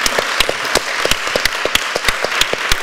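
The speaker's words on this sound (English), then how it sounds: "a round of applause for Bjarke" Audience applause for architect Bjarke Ingels at a 2016 architecture talk: a small crowd clapping steadily, with individual sharp claps standing out above the steady patter, no voices.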